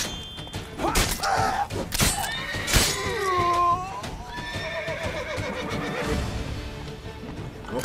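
A horse neighs and whinnies repeatedly inside The Witcher 3: Blood and Wine, with loud, agitated calls among thumps and game ambience, close and prominent, with no speech.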